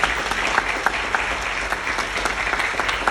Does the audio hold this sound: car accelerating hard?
no